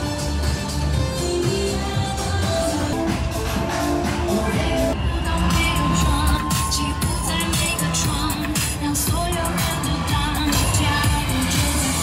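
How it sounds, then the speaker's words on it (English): A dense, continuous roar from a crowd at the New York Pride Parade in the street, with bangs, shouts and music blended into a loud wash that stays steady throughout. "the Pride Parade. I can hear it right in front of me."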